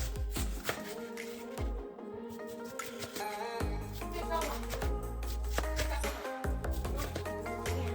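A knife chops onion on a board while making chili, a run of quick, light taps close by, with a voice speaking over the chopping.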